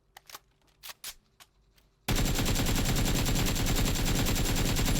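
Sustained automatic rifle fire in PUBG, loud and continuous with uncontrolled recoil, following a few short scattered shots.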